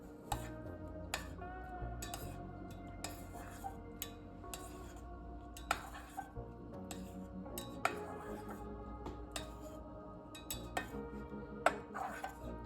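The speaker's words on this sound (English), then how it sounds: "And just keep on stirring." A spoon stirs Maruchan chicken ramen in a pot with the heat off, giving faint repeated clinks and taps of metal on the pot against a quiet background, with no voices.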